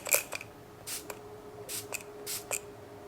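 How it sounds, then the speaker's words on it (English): Setting spray misted upward into the air before a summer foundation routine, heard as several short soft hissing bursts, close and fairly quiet, with brief clicks between pumps and no talking. "I'll kind of spray it up in the air and just let it kind of drop to my face"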